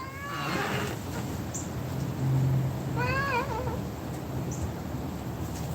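A cat meows twice indoors, the first call near the start and a longer wavering one around three seconds, clear over a low steady room hum.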